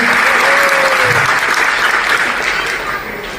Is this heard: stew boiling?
no